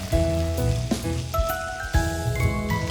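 Char siu pork pan-frying in a pan gives a steady, crackling sizzle with overlapping tonal whines and occasional sharp pops, fairly loud and continuous without talk.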